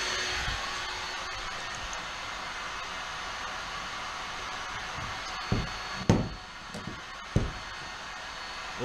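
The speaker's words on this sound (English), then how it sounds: "Heating the putty knife." A heat gun or hot-air blower warms a putty knife for repairing a scratched polyethylene plastic kayak, giving a steady, even airy roar throughout, with a few brief knocks and clicks near the end.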